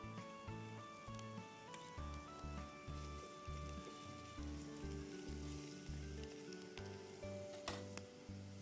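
Finely chopped onion and capsicum sauté in a pan, giving a soft, steady sizzle that sits under louder background music with a clear melody.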